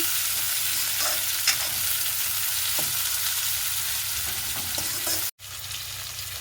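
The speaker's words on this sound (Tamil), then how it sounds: "இப்போ நாங்கள் வெட்டி எடுத்து வச்சுக்கிற வெங்காயத்தை சேர்த்துக்கொள்கிறோம். இதில் வடிவாக வதங்கட்டும்." Chopped onions fry in a pan while being stirred, giving a steady, fairly loud sizzling hiss with a few scraping clicks and one brief dropout near the end; no one speaks.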